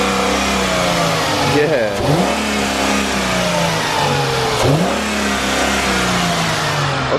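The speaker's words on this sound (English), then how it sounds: "All right, rev it up." A 2004 Chrysler Crossfire fitted with dual intakes revs up twice in quick bursts, engine rising and falling close by over a steady idle, with a person briefly speaking.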